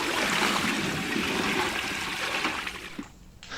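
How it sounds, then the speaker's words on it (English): A bucket of boiling water is poured into a bath, a steady, full rushing splash that holds strong for a few seconds before thinning to a trickle and stopping. "the water falling into the bath like a scalding waterfall"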